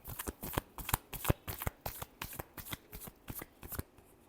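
Tarot cards being shuffled by hand, a rapid run of crisp riffling flicks in a quick steady rhythm, close but quiet, with no talking over it.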